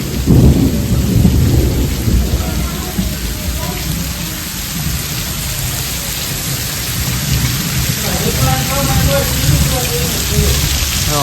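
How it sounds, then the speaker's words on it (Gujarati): Deep thunder rumbles roll through a loud, steady downpour of heavy rain, close and powerful throughout. "તમને તો જો કેવા કડાકા થાય"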